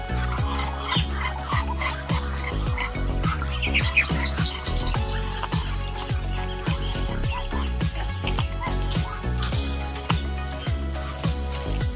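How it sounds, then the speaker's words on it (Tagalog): Three young chicks peep and chirp close by in a backyard poultry pen, their rapid, repeated calls running nonstop and loud with no one talking over them. "Meron pa dito 3 na sisiw."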